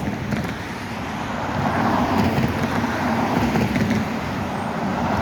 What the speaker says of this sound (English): A lot of cars coming through here.